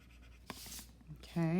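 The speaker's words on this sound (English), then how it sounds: "I'm going to add just some loose color down here for the table." A coloring pencil or crayon scratches loosely across paper, adding color for a table in a flower bouquet collage, with soft intermittent strokes under a quiet room tone and a brief tonal sound at the end.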